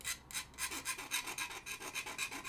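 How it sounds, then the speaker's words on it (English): A small needle file scraping mold lines off a miniature model, rhythmic back-and-forth rasping strokes about five per second, close and quiet. "personally, I like to use a small needle file as well,"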